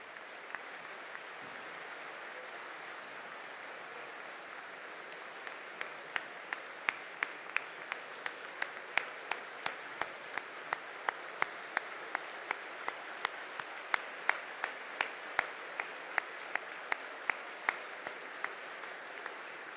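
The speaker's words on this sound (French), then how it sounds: "Je te demande de les faire applaudir, Fred." Applause from a trade union congress audience in a hall, a steady wash of many hands with sharper individual claps growing more prominent, sustained for the whole stretch at moderate distance, with no talk over it.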